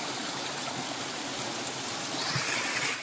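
Jungle stream water in Nagaland, diverted to one side, rushes in a loud, close, continuous wash that swells slightly before cutting off.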